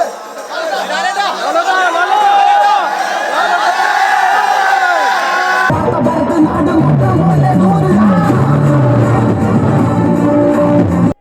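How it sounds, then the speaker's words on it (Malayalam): Fans loudly cheering and whooping for Mohanlal at Kavitha theatre in Kochi, a dense roaring crowd with shouts and chatter throughout, and voices chanting in a rhythmic pattern toward the end. "സിനിമ കാണാൻ കൊച്ചി കവിതാ തിയേറ്ററിൽ എത്തിയ താരത്തെ ആർപ്പുവിളികളോടെയാണ് ആരാധകർ സ്വീകരിച്ചത്"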